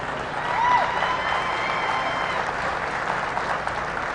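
Dense applause from a large crowd for exhibitors at a county youth fair and livestock show, steady and loud for the whole stretch, with a brief swell near the start.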